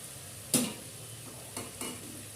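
Ginger garlic paste, mint leaves and whole spices like cinnamon and cloves being stirred in a hot pan, giving a soft steady sizzle broken by three short scraping stirs, close and fairly quiet.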